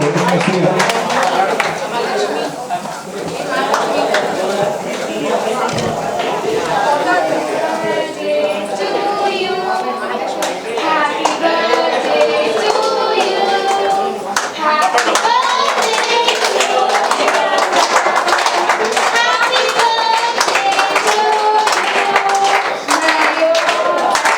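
At a welfare society service event, a crowd claps along while a birthday song is sung. The rhythmic clapping runs under loud singing voices and music for the whole stretch.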